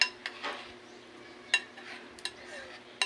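A utensil stirs meat in a pan during home cooking, giving a few sharp, sparse metallic clinks against a quiet background with a faint sizzle.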